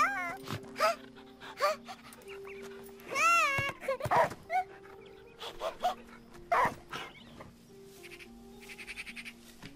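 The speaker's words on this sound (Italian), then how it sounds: "chiama il cane di nuovo." A dog in the video game Last Day of June whimpers, yips and gives short barks in scattered bursts with brief gaps, close and fairly clear over a quiet background.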